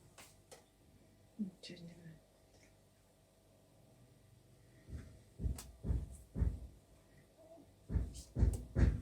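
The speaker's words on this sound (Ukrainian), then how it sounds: "Вибачайте, стукає." Dull knocking comes in two clusters of several heavy thumps, loud and close, after a stretch of quiet with a faint voice murmuring.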